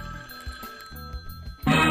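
A mobile phone rings indoors, its electronic ringtone tones sounding over quieter clatter before a louder burst at the end, with no talk over it.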